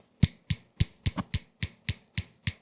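Nine sharp plastic clicks from small grip clips in a steady, fairly even rhythm, close and crisp, each a quick snap with a short tail, no voices.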